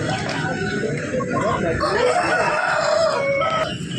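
Roosters crow loudly and close at a busy rooster market during a festival, with clucking fowl and voices of a crowd talking throughout.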